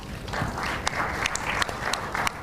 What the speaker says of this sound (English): Can you give it a round of applause?